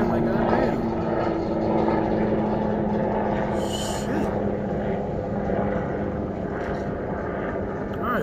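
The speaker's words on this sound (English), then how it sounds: "Now I got airplanes flying over" A steady, droning aircraft engine hums overhead throughout, a low continuous rumble with a faint whine, loud and unbroken.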